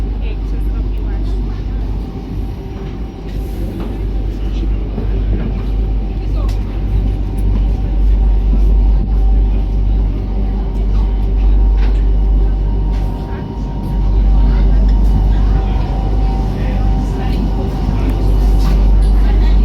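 A ferry's engine rumbles steadily on the crossing from Sliema to Valletta in Malta, a loud continuous low drone that holds through most of the passage with a brief dip, while people talk over it.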